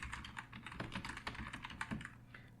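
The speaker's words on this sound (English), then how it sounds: "So I will just type in natural wonders" Fingers type on a computer keyboard in a quick, uneven run of soft clicking keystrokes, close and quiet, with no voices.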